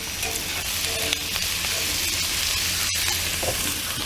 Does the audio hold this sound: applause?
no